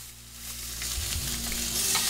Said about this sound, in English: You should really hear the pan sizzle when you place the steaks down for a nice sear.